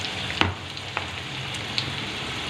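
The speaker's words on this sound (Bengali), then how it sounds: "এই আলুটা ভাজা হোক একটুখানি।" Potatoes with turmeric fry in hot oil in a wok, giving a steady close sizzle broken by a few sharp pops and spatters.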